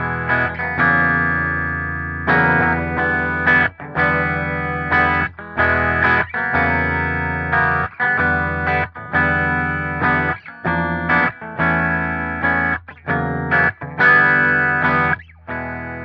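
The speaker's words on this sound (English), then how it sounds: "So right now, blue channel is our clean channel, and it sounds like this." Electric guitar with the bridge humbucker through the clean channel of a Revv G20 amp, playing loud chords and notes in short repeated bursts with brief gaps, no voices.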